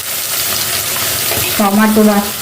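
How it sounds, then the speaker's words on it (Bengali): Katla fish bones frying with onion, garlic and spices in a pan, a steady close sizzle with stirring, and a brief tonal scrape or clatter near the end. "এবার এটাকে ভেজে নিচ্ছি।"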